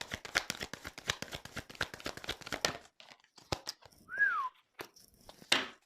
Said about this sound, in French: C'est rare que je siffle.